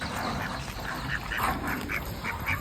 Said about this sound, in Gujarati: અને આ જુઓ આ હંસલા.